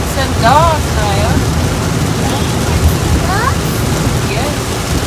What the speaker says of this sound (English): It's raining cats and dogs, Naya.